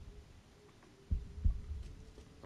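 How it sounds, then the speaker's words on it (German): Rose's heartbeat in Resident Evil Village: two soft low thumps about a third of a second apart, faint over a quiet ambient hum. "Das Herzklopfen von Rose."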